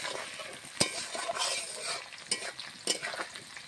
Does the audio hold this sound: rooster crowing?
no